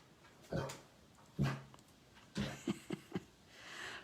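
A dog gives a half-hearted bark, a few soft muffled woofs and short huffs spaced across several seconds, close by and fairly quiet indoors.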